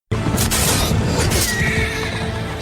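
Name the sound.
horse neighing in a Robin Hood film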